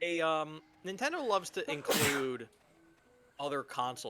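A single sharp sneeze bursts out between stretches of a person talking, brief and close.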